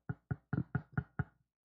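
A voice imitates knocking on a door: six quick, evenly spaced knock-like beats, mouthed close up, with no real door heard.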